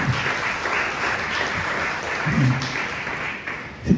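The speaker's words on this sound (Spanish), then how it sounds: "Denle un fuerte aplauso al Señor Jesucristo." Applause from a church congregation carries through a steady, soft wash of clapping that holds at a moderate level for several seconds, with a brief louder burst near the end.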